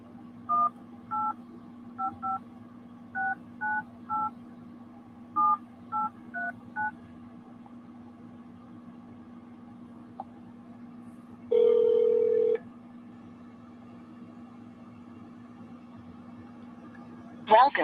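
A telephone number is keyed in as a series of short DTMF touch-tone beeps in irregular groups over a steady dial-tone hum, followed by a louder longer tone burst and a brief blip at the end.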